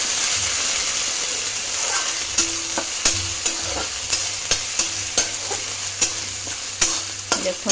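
Ginger garlic paste frying in hot oil for a guguni, with a steady close sizzle broken by a regular series of sharp scraping clicks as it is stirred.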